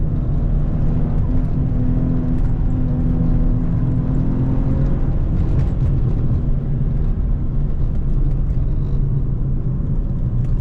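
A 2016 Maserati Ghibli S Q4 sports sedan with a sport exhaust pulls under acceleration, a loud, steady engine drone with rising harmonic tones, heard from inside the car without talk.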